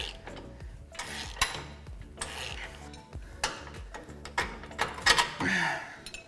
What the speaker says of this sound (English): use a 24mm box wrench on the back and then a 21mm socket on the smaller of the two